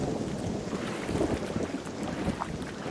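Rolling thunder and lightning rumble steadily through a stormy video game scene, a dense low roar with rain-like hiss and no talking.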